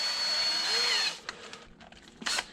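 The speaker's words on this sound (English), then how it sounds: "you drill through so that you have a clean hole according to the size that you need" A power drill whines loudly for about a second while drilling a clean hole in a cheap homemade underwater viewer, then cuts off, followed by faint knocks and handling sounds.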